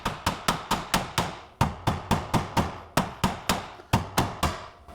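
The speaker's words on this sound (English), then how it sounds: "And this is where you get your big hammer, whether you call this the negotiator or the convincer." A big hammer repeatedly striking a car's lower control arm suspension part to free it: about seventeen sharp metallic blows in a fast, steady rhythm, close and loud.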